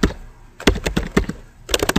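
Quick bursts of keystrokes tap on a computer keyboard, close and crisp, with a pause between two clusters of typing and no voices.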